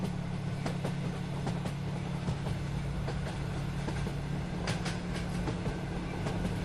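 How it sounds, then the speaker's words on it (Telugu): A train moves steadily through the evening in a continuous low rumble, a faint, even drone with light rattling and wind noise and no talking. "ట్రైన్ వెళ్తున్న శబ్దం అలా వినిపిస్తోంది."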